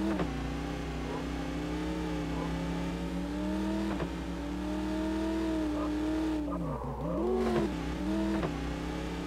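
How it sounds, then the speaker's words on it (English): A car in the PS2 video game True Crime accelerates, its engine droning steadily and rising in pitch with a brief dip and recovery near the end, loud and continuous with no talking. "Step on the gas and get rolling."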